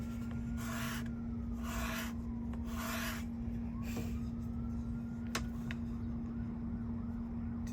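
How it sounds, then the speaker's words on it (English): Wood scraper shaving braces on a flamed maple 7-string guitar back, giving three close, rasping strokes in a steady rhythm, followed by faint handling taps over a constant low background hum. "But what I'm gonna do use my scraper"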